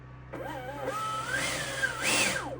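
A 70mm electric ducted fan on an RC Thunderbirds jet spins up with a rising whine, wavers, climbs to a loud high-pitched howl and then winds down, heard up close.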